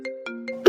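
A phone ringtone in a Hindi-language audio drama plays close and clear as a short repeating electronic melody in even pulses, cut off by a brighter burst at the end.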